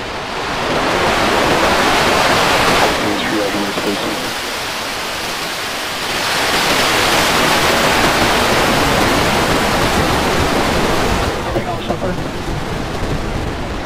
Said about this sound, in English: Ignition. We have liftoff.